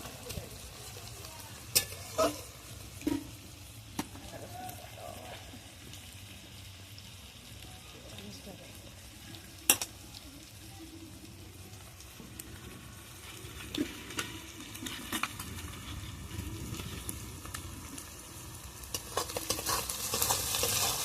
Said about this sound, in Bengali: চিংড়ি মাছটা আর পেঁয়াজটা এইভাবে লাল লাল করে ভালোভাবে ভেজে নেবো।